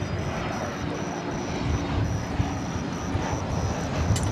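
An American Airlines jet departing DFW Airport sends a steady, broad roar with a faint high whine, continuous and moderately distant, with no talk over it.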